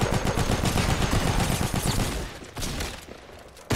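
Heavy gunfire exchange during a Fortnite match, with a semi-auto sniper among the weapons, a dense rattle of shots loud and steady before tapering off near the end.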